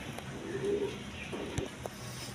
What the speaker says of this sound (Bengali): দর্শকবৃন্দ এইখানে এক পেয়ার রাজগোল্লা কবুতর আছে